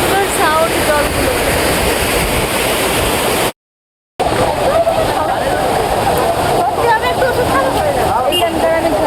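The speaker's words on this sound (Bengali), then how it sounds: "এই ঝর্ণাটা সবচেয়ে বড় ওয়াটারফল।" Rushing waterfall in Cherrapunji, a loud, constant roar of falling water with a brief gap, while a person talks over it.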